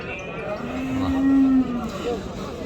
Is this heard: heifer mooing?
yes